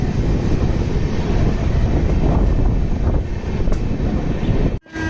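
Steady loud rumble and rush of the NJP–Howrah Shatabdi Express passenger train running at speed, heard from inside the coach as a continuous roar with no talk, ending in a brief sharp dropout.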